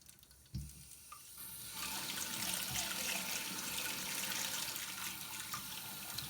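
Water rushes from a Fluidmaster toilet fill valve into a held cup, starting after a brief knock and building to a steady, close hiss that runs on to the end.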